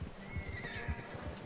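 A horse whinnies in the Red Dead Redemption 2 video game, a drawn-out neigh over a steady thud of hooves close by, with no talk over it.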